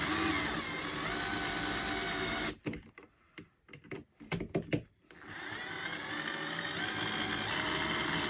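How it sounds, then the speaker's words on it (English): A power drill drives screws during a Tekno SCT410 2.0 RC truck build, a burst of short whirring pulses and stops from the drill in the middle, with steady background noise before and after. "And then we might finish them with our drill here."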